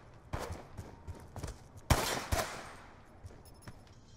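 Bursts of gunfire in the video game Call of Duty Black Ops 2, several separate shots and short volleys at varying distance, with one loud close crack in the middle, then quieter scattered shots fading out.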